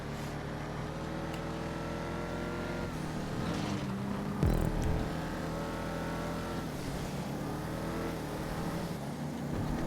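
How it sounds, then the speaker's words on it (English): Race cars in GTA 5 roar around a track, with steady high engine whine, a sharp burst as one passes mid-way and continuous revving, fairly faint and with no talk. "Two very different cars battling it out"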